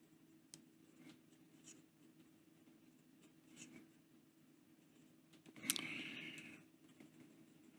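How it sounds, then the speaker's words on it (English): A Moonman T2 fountain pen writing quickly on paper gives faint, close, scratchy strokes in an irregular rhythm, with one louder scrape near the end. "And some quick writing."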